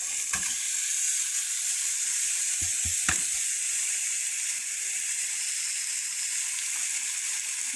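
Pork belly fries in its own fat in a pot without oil, giving a steady, close hiss of sizzling with a few light clicks and scrapes of stirring early on.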